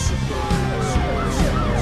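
A cartoon police car siren wails in rising and falling glides over a busy, music-filled soundtrack, steady and fairly loud throughout.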